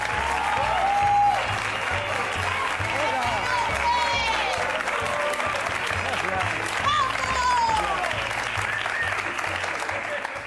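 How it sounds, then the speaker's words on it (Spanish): A studio audience applauds for Onofre, a steady, full wash of clapping that holds for about ten seconds, with voices talking over it. "¡Un aplauso para Onofre!"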